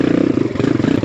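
A BBR-built Kawasaki KLX170RF dirt bike runs steadily close by through slower terrain, its mid-pitched engine burbling continuously with a rough, pulsing throttle note and no voices.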